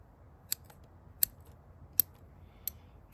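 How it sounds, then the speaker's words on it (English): Four crisp scissor snips cutting a plant, evenly spaced about a second apart, close and clear against a quiet background. "Now I can go into my other scissors."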